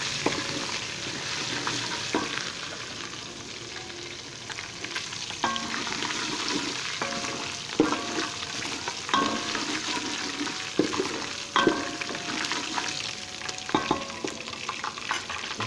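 Steady sizzling of garlic and ginger frying in a hot pan, with occasional stirring clatter and scraping, continuous and fairly close.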